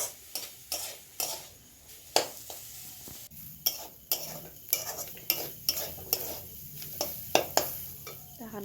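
Grated coconut is lightly fried in a pan for Bengali naru, with a soft sizzle under repeated scraping and clinking strokes of a spatula in an uneven, fairly quick rhythm, heard close up.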